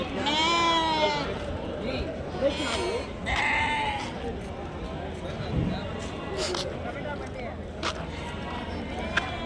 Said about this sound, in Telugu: గొర్రెలు ఇవన్నీ